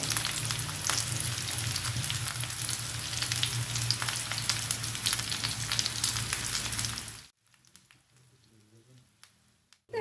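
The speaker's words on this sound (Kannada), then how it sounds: "ತೆಂಗಿನ ಎಣ್ಣೆಯಲ್ಲಿ ಕೂಡ ಫ್ರೈ ಮಾಡ್ಬೋದು ನಾನು ಸ್ವಲ್ಪ ತುಪ್ಪ ಹಾಕ್ತಿದ್ದೇನೆ" Pathrode slices, made from leaves of a rare wild tree, fry in ghee in a pan, giving a loud, steady sizzle that cuts off abruptly near the end, leaving faint quiet noises.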